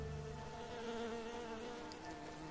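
Bee buzzing in the fantasy video game Enderal, a steady, continuous insect drone with a faint tonal hum throughout, at low level and without speech.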